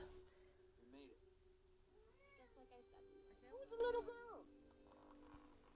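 A house cat meows several times indoors, with wavering, drawn-out calls and one louder cry near the middle, over quiet background sound and some talking.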